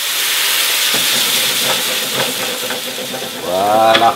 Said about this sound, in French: Et maintenant, vous y rajoutez, pour déglacer, votre fond de veau dans son petit verre d'eau